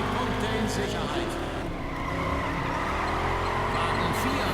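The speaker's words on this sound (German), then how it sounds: "ein schöner Drift von Wagen 2" Cars drift with squealing tires and roaring engines in the Juiced 2 racing video game, a loud continuous skid under the engine noise, with a voice talking over it.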